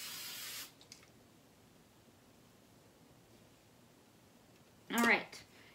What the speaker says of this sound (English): And then I would give myself some hairspray.